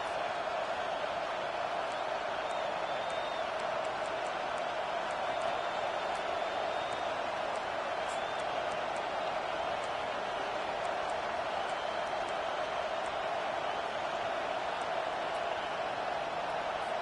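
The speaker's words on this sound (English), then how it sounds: "Now the crowd responding in the red zone, trying to help this defense" Steady roar of a stadium crowd cheering in an NCAA 25 college football video game, a dense continuous wash of noise building in the red zone with no distinct breaks, faint higher chirps above it.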